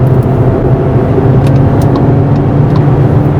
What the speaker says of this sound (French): si je mets le mode sport, tout de suite elle va monter dans les tours